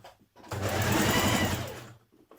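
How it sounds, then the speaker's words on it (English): A sewing machine basts the armhole facings of a New Look 6871 blouse in one short close run of about a second and a half, its whirring motor starting and stopping cleanly in quiet surroundings. "Machine baste your facings around your armhole together."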